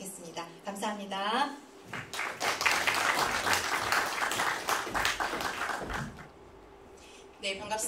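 An audience claps at a Korean art song concert held as a memorial concert. A voice talks briefly first, then a burst of full applause swells for several seconds and fades before a voice returns.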